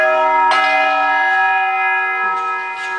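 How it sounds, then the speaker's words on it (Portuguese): A large church bell in São João del Rei, Brazil, rings loudly with a long, shimmering, sustained tone, followed by softer strikes fading in the background. "A cada toque de sinos"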